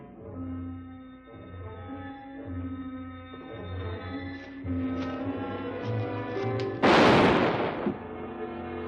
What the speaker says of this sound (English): These gunshots will bring the whole town in.